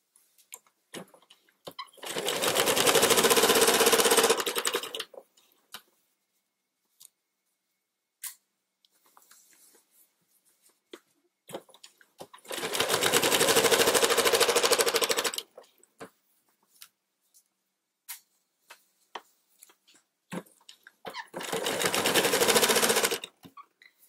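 A sewing machine stitches quilt binding in three separate bursts of steady, rapid whirring, each a few seconds long, with light clicks and handling noises in the pauses between; nearby and without talk.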